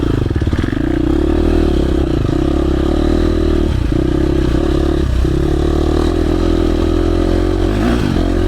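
A KTM 350 four-stroke dirt bike rides through the woods, its engine held loud and close in a steady, raspy rev with brief dips as the throttle eases, plus light clatter from the chassis.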